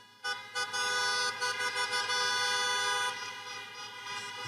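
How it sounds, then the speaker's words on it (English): Car horns honk together like traffic stuck in a jam, sounding as a loud, sustained blare that starts abruptly, stutters with a few choppy pulses, then holds steady before easing off slightly. "I do like the honking or whatever. It does sound like people are, in a traffic jam."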